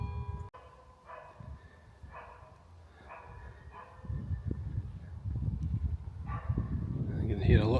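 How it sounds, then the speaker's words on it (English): A dog barks repeatedly in separate, moderately distant bursts near Dunfermline Abbey and Palace, while someone talks over and between the barks. "You can hear a lot of dogs barking"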